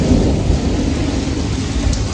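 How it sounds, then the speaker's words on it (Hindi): Heavy rain pours down in a steady, dense roar during a storm, with low rumbling underneath suggesting thunder, loud and continuous with no voices. "बहुत तेज़ बारिश हो रही है"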